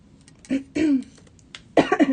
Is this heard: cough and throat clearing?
yes